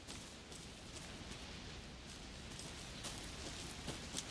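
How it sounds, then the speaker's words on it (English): Steady rain pours in the video game Alan Wake 2, a dense, even hiss of falling drops on an outdoor forest scene, constant and moderately loud with no voices. "Should have brought an umbrella. I like the rain."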